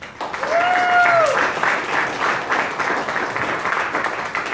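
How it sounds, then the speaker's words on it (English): A crowd breaks into steady applause, many hands clapping together at close range, with a brief whistle or cheer near the start. "Please give these two individuals a round of applause."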